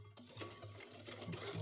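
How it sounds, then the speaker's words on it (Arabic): Cold no-bake dessert mixture stirred in a bowl, a steady close scraping and swishing with soft repeated strokes and no voices. "نخلط"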